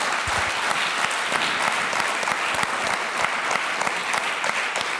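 A church congregation bursts into sustained applause for a pastor during a Mother's Day service, dense steady clapping from many hands that holds at an even, full level throughout.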